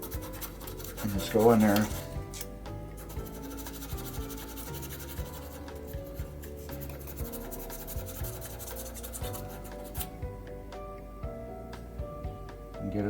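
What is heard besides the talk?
sanding metal relay contacts with 600 grit sandpaper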